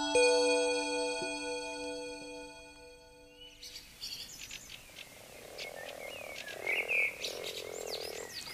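Toads croaking during mating in a pond, a dense chorus of rhythmic trills and croaks at moderate distance with chirping mixed in, rising after a sustained tonal passage at the start.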